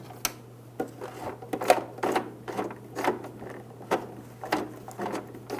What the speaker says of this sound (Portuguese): E aqui eu vou fazer manualmente, para não forçar muito aqui a máquina na hora de passar a costura.